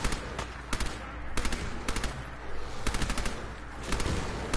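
Weapon gunfire in the video game Fallout 4: loud, rapid automatic bursts of shots repeating in clusters over a continuous noisy battle background.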